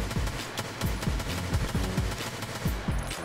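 Single shots from a 5.56 Colt M4A1 rifle in Escape from Tarkov crack out in a quick, fairly even series of about ten sharp reports, each with a short ringing tail, loud and close with no talking.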